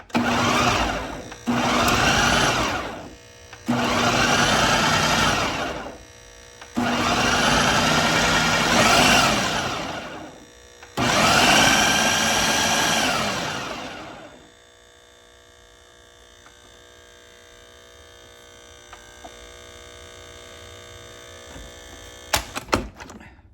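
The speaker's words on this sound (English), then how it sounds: "this is a pretty powerful blender, so we're just gonna pulse it." A powerful blender pulsing ham for ham salad roars in five short, loud bursts of a few seconds each, separated by brief pauses, then stops, leaving quiet room tone.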